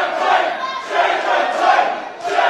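A packed wrestling event crowd roars and chants in loud surging waves, a dense continuous mass of voices rising and falling every second or so, close and filling the space.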